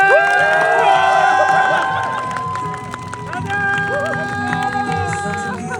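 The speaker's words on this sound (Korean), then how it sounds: "여러분께서는 큰 박수로 맞이해주시길 바랍니다" Guests at an autumn outdoor wedding cheer and applaud the groom's entrance, loud crowd noise over bright tonal music with voices and shouts mixed in, fading slightly midway.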